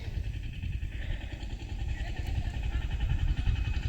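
A tractor loaded with fodder draws nearer on a village track, its engine chugging steadily and growing slightly louder throughout, with a rattling clatter underneath.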